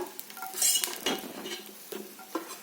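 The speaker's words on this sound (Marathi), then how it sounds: "ज्या पॅनमध्ये मी आता टमॅटो भाजून घेतले त्याच्यातच आपण आता मिरची भाजून घेणार आहे हिरवी मिरची" Green chillies roast in oil in a pan just used for tomatoes, with a soft sizzle under the scrape and clink of a spoon stirring, close and moderately loud.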